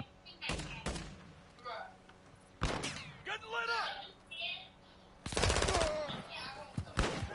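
Call of Duty hardcore deathmatch gunfire: short, loud bursts of automatic machine gun fire come in several separate volleys, with a person talking between and under them.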